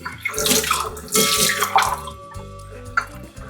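Water is poured over thinly sliced raw green mangoes in a home kitchen while making kairi panha, giving a few close splashing, gushing pours followed by quieter trickling.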